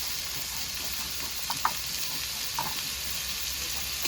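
Chicken pieces with salt, turmeric and chilli powder fry in a pan under an even background sizzle, and a few brief spatula knocks and scrapes come close together near the middle, with no speech.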